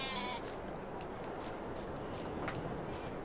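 Sheep bleating in the Farming Simulator 22 video game sounds faintly over soft ambient farm noise, with brief calls scattered across a few seconds.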